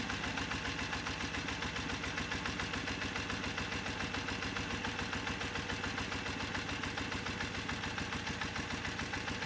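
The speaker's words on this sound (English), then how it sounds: "So as I back this off, you can hear the idle." A BMW engine idles on its carburetors as the idle screw is backed off, a steady, rapid, even pulsing hum that runs continuously at moderate level with no voices.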